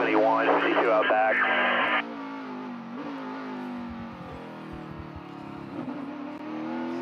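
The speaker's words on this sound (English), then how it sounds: "I love that noise as they go through 6A and 6B. You hear the exhaust, going off of the wall right there, reverberating." NASCAR O'Reilly Auto Parts Series race cars at Circuit of the Americas roar through a turn sequence, exhaust echoing off a wall, a sustained engine drone under continuous commentary.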